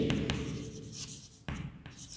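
A pen or marker scratching out short strokes on a board or paper while solving a spherical mirror physics problem, a few quick close scrapes and taps with brief pauses between them.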